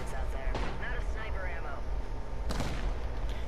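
A scout rifle fires in a video game: two sharp, loud shots about two seconds apart, over a constant background of game noise.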